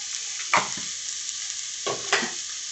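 A spoon stirs spiced beef samosa filling in a hot pan, two quick scraping strokes over a constant soft sizzle of frying.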